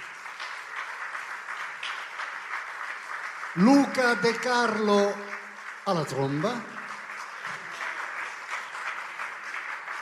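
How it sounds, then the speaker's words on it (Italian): An audience at a live concert at the Arezzo Wave festival applauds band members as they are introduced. The applause is steady and moderate, and a voice announcing names twice cuts through the middle of it. "io non voglio fermare mai gli applausi, quindi voi fateceli arrivare"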